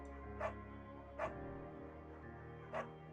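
A dog in the video game Firewatch gives three short, soft barks spaced irregularly over a low steady background hum.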